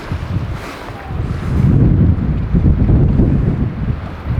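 Strong night wind on a sailboat in Greenland buffets the microphone in loud, gusty rumbling surges, with no voices.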